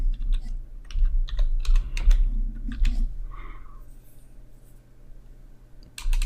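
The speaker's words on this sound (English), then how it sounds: "I'll change that and I'll type first name" Close, rapid typing on a computer keyboard while entering a field name in a web app, with irregular bursts of clicking keystrokes, a short pause, then more keys.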